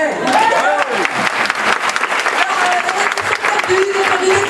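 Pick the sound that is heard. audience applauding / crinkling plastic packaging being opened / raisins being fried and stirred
audience applauding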